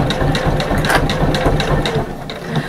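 A domestic sewing machine stitches through thick layers of bag fabric, its motor a steady mechanical whir with rhythmic needle thumps, close and fairly loud throughout.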